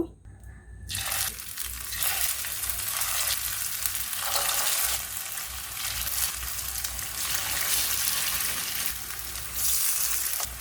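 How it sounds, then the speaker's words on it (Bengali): Spinach (pui shak) pakoras sizzle steadily in hot oil in a pot, a dense, continuous frying hiss heard up close with no talk. "একে একে পাকোড়াগুলো আমি ভেজে নেব"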